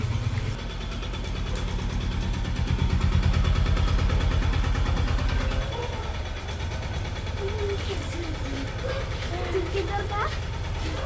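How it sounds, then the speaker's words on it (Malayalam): A car arrives and settles into an idle: a steady low engine rumble, louder for the first half and then easing to a quieter idle, with people talking nearby. "ഇതാണ് നമ്മുടെ വണ്ടി വണ്ടി വന്നിട്ടുണ്ട്"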